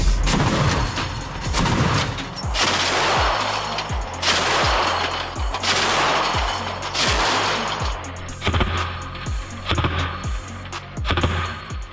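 A weapon fires repeatedly at Russian infantry in the Ukraine war, sharp loud booming reports at fairly regular intervals of about a second, each with a heavy low thump, continuing throughout without talk.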